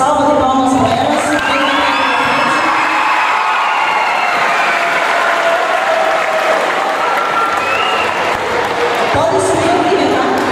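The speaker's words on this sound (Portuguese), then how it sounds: "Salva de palmas para elas." Loud applause and cheering from a school show audience for two girls' ballet performance, dense clapping mixed with shouts, whoops and children's voices, sustained throughout at high level.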